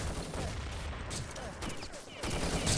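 Dense gunfire from a video game match, the Nations Cup Canada versus United Kingdom tournament, sounds continuously as sustained bursts of rifle fire and loud volleys. Brief voice fragments sit faintly beneath the shooting.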